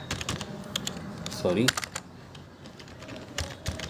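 Computer keyboard being used to type HTML tags, giving a run of light, scattered key clicks across the clip, with a brief voice-like sound near the middle.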